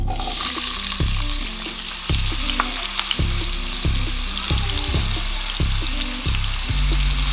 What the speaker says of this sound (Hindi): यहाँ पे ऑयल हमारा थोड़ा सा गर्म हो गया, हम इसमें ऐड करेंगे ये आलू